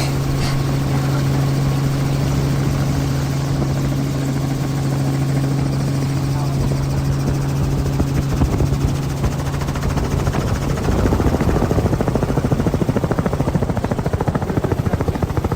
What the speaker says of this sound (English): I've killed it so I can just listen out for this chopper again.